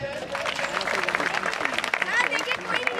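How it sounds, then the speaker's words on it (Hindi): Applause from an audience at a school function in Bhiwandi, a busy patter of clapping over a few seconds, mixed with crowd chatter and a voice speaking. "जोरदार तालियां बजिए।"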